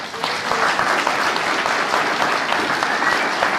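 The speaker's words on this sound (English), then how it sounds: "round of applause for us all." A conference audience claps in a sustained, dense round of applause, steady and fairly loud throughout, with no voices heard over it.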